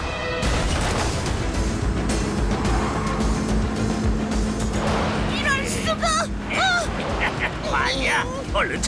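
An old, run-down tractor racing fast in a cartoon chase, its engine roaring loud and close with crashing rattles throughout, while characters shout over it.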